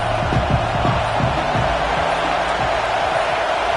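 Dense, steady roar of a large crowd at a Kentucky versus Michigan football game, loud and continuous throughout with no clear break, the noise filling the arena under a faint murmur of low tones.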